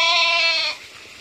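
A goat on a village farm gives a single loud, close bleat lasting under a second, then falls quiet.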